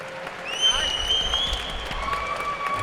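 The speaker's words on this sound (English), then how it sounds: "a big round of applause," Arena crowd applauds both fighters in the cage after a middleweight championship MMA bout, clapping and cheering at moderate, distant volume while a high whistle-like tone cuts through above it.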